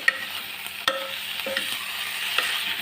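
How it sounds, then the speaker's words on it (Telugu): Coriander leaves frying in oil, with a close, steady sizzle and several quick clinks and scrapes as they are stirred in the pan, with no talking. "కొత్తిమీర వేసేసుకున్నాం కదండి కొద్దిగా వేపుకుందాం"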